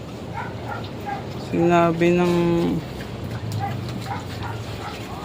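A dog barks in a short burst of loud, harmonic yelps over a moment, with a person talking before and after.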